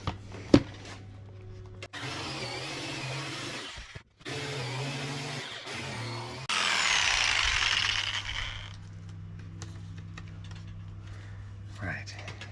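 A power tool cuts a large round hole in a van's overhead cabinet with a harsh, rough whirring buzz that runs in several bursts broken by brief pauses. A few knocks and quiet handling noises come before and after.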